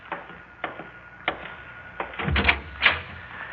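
A door is opened with a scattering of light clicks and taps, then a louder rattle and thud of the latch and handle, close by, in a quiet room with no talk.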